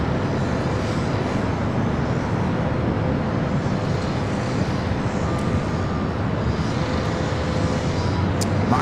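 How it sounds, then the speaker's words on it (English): An airliner takes off at Los Angeles LAX airport, a loud, steady broadband engine roar that holds for about nine seconds with no break or clear rise and fall. "all of the city is hearing definitely the takeoff action here at LAX today"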